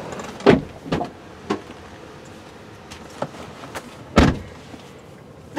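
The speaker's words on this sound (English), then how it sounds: "you can hit your button right here to go ahead and close it" The power rear liftgate of a 2013 Chevrolet Equinox LT closing, a handful of separate clunks and thuds spaced over several seconds, one louder latching knock near the end, against a quiet background.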